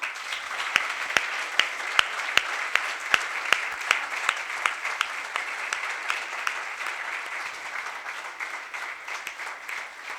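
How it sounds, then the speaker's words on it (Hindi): Audience applause at a gathering in Yavatmal, steady clapping with prominent individual claps punctuating the start, settling into an even patter that softens and thins toward the end. "भरत सबके भाई, लिए जोरदार तालियां।"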